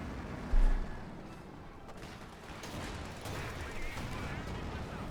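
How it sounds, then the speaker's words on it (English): Tank cannon fire and battle noise from Company of Heroes 2, a Panther IV taking a direct hit from a Sherman, with one loud boom near the start, then a dense rumble of distant shots. "Shots flying. Panther 4 takes direct hit from the Sherman."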